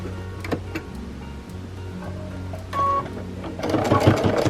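A sewing machine stitches through quilt fabric for a scrappy mock cathedral windows table topper, with a steady mechanical whirring hum that stops briefly and picks back up, growing louder near the end.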